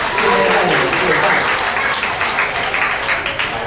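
A church congregation applauds together at a gospel dinner gathering to welcome a preacher, a dense, steady wash of many hands clapping that holds at an even level throughout.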